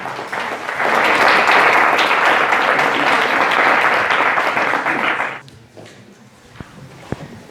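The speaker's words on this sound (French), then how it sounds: "on peut applaudir tous les candidats et toutes les candidates" A hall audience applauds the candidates at the 2021 grand final of the Institut Polytechnique de Paris eloquence contest. The clapping swells to a dense, steady ovation for about five seconds, then cuts off, leaving a quiet room with a few stray sounds.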